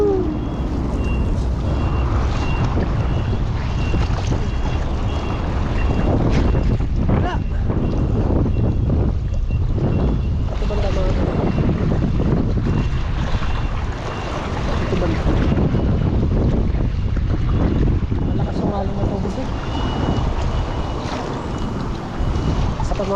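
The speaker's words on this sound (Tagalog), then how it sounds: "Lakas ng hangin." Strong wind roars steadily across the microphone for the whole stretch, loud and buffeting, with low rumbling gusts and occasional faint voices underneath.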